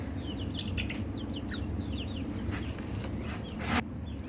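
Young chickens being moved from a brooder to an outdoor coop cluck and peep in a busy chorus of short calls, close by over a steady low rumble, with a brief louder clatter near the end.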